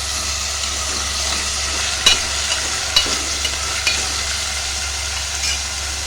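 Drumstick and tomato curry being stirred in a pan, a loud continuous sizzle with occasional scraping strokes of the spoon, close up and without any voices.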